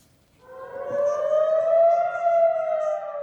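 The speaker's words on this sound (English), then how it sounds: "In October 2023, Israelis woke up to the sound of sirens, warning of a wave of incoming missiles fired from Gaza." A civil defense siren in Israel, warning of incoming missiles fired from Gaza, rises into a long, steady wail, loud and alone against quiet.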